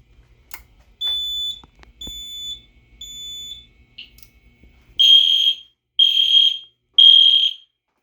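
Fire alarm horns sound during a test: three shorter, quieter tonal beeps spaced about a second apart, then three louder, harsher horn blasts in the same even rhythm, close by with silence between.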